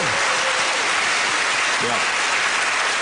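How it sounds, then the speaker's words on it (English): Loud, dense round of applause from a television quiz show studio audience, a continuous roar of clapping with a voice faintly heard beneath it. "A jolly, encouraging and patronising round of applause to you"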